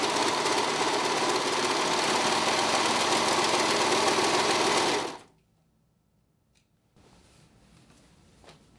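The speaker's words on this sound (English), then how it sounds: "Now that we've stitched the 2 pieces of fabric together" A sewing machine stitches two pieces of knit fabric together for a girl's shirt, running loud and steady for about five seconds, then stopping abruptly and leaving quiet room noise.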